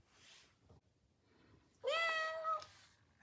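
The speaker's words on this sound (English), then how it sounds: "She meowed." A Joy For All robotic companion orange tabby cat gives a single loud, drawn-out electronic meow after a quiet stretch with soft background noise.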